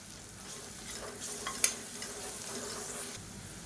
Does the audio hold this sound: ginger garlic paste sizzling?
yes